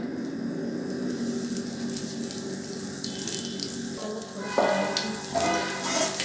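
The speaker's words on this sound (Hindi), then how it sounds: "तवे पे हमने बटर डाल दिया है, मेल्ट होने देंगे" Butter melts on a hot tawa for pav bhaji, giving a fizzing, crackling sizzle with brief louder bursts toward the end and no talk.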